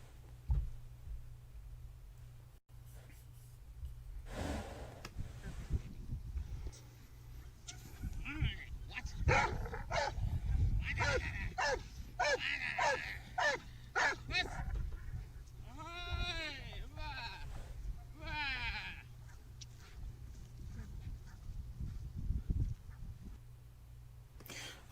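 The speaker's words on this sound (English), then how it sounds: "So I rewarded the dog with the barking" A dog barks repeatedly in the middle stretch, a cluster of quick yelping barks and some whining cries at moderate distance, with a person talking around and between them.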